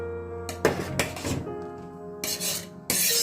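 Chickpea pongal with rice and lentils being stirred in a cooking pot: several bursts of scraping and clinking utensil-on-pot sounds, close and fairly loud, separated by short quieter pauses, with a steady background hum.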